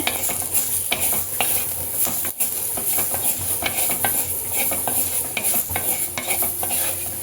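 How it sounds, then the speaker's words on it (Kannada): Onion sizzling and frying in oil inside a clay pot being seasoned over low flame, with steady loud crackle and repeated stirring scrapes throughout. "ಒಂದು ಸ್ವಲ್ಪ ಆಯಿಲ್ ಹಾಕಿ ಇದಕ್ಕೆ ಆನಿಯನ್ ಹಾಕಿ ಫ್ರೈ ಮಾಡ್ಕೊತೀನಿ"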